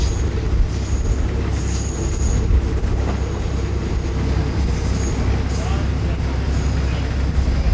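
Evening ride aboard the feeder train running from Phra Chom Klao to Lat Krabang, with a steady loud rumble of wheels on rails and occasional faint squeals, heard from inside the carriage.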